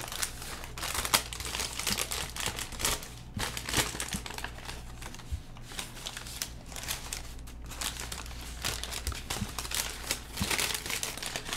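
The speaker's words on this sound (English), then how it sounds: "doing that makes the paper a lot crispier. Which I think you guys can hear pretty well." Crisp methylcellulose-treated paper being folded into origami, close-up crinkling and sharp crackles in a dense, continuous run of rustles and snaps with no talking.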